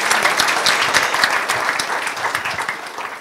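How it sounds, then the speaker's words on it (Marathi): An audience at a live dialogue talk show breaks into loud, sustained applause, a thick crackle of many hands clapping close by, gradually easing slightly toward the end. "एकदा जोरदार टाळ्या वाजवूया"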